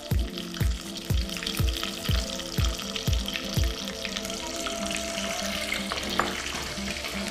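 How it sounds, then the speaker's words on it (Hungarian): Small round patties fry in a hot pan with a dense, steady sizzle, while a regular series of soft thumps repeats about every half second before fading into continuous crackling. "Sülnek a kis korongjaink"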